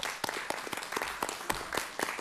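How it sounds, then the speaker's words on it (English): Scattered, uneven clapping from a modest council-meeting audience, individual claps standing out in an irregular rhythm, moderately close and fairly quiet. "Let's give it a round of applause for their work"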